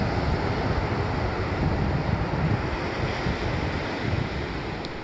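Continuous roar of ocean surf at a beach beside a caravan park, a broad steady wash of breaking waves with heavy wind buffeting the microphone throughout.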